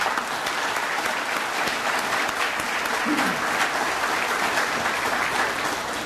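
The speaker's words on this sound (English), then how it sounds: "Let's take a round of applause for everybody that made that display out there" A crowd at an outdoor VFW Memorial Day ceremony applauds steadily and loudly throughout, a dense, unbroken wash of clapping with no pauses.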